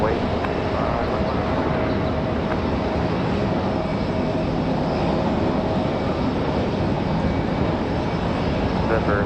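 Fixed-wing aircraft at Raleigh Durham International airport, a loud, steady broadband engine roar that holds unbroken and near throughout.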